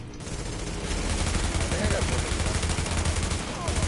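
Rapid automatic gunfire from The Division video game, a dense, continuous burst of loud shots close up, with a player's voice talking over parts of it.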